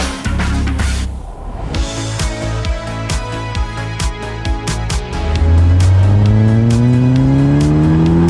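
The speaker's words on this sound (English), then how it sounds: "we have a 205 GTI running" A Peugeot 205 GTI 80s hot hatch engine runs loud and close, pulsing and revving, then rising in pitch as it accelerates.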